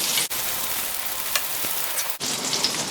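Butter melting in olive oil in a pan, giving a steady, bright frying sizzle with crackly pops. Two brief dropouts break the hiss, which otherwise stays at an even moderate level with no talking.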